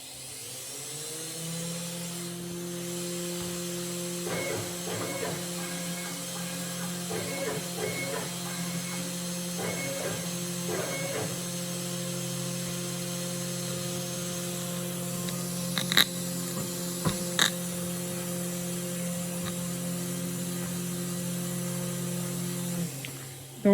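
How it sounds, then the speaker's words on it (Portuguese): A CNC router spindle runs as a steady, even electric whine and hum for the whole stretch, with a few brief louder clicks near the end and no talk. "Testar se o spindle está funcionando."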